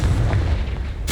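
A Confringo fire-blast spell explodes in the video game Hogwarts Legacy: a loud, dense low boom that rumbles steadily for about a second, then gives way to a brighter burst at the end.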